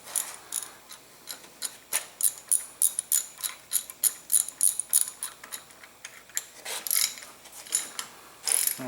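A hand ratchet tightens screws on a Kawasaki 1600 motorcycle engine, clicking in fast, even bursts of close metallic ticks that repeat steadily with short pauses.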